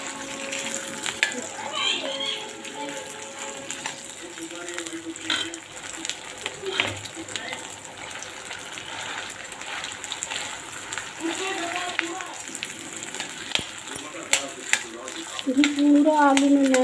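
Potatoes fry in ghee in an iron kadhai, giving a steady broadband sizzle throughout with occasional clinks and stirring, louder toward the end, while a person talks over it.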